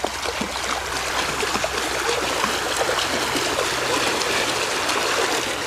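Creek water flows and burbles steadily nearby, a continuous bright rushing with small splashy trickles, no voices.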